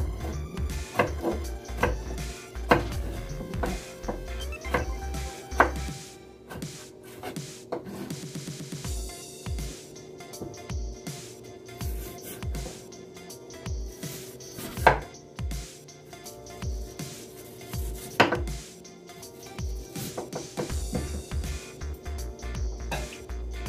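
A knife slices through mango on a cutting board, irregular clusters of close board taps and soft scraping cuts, with pauses between strokes and no voices.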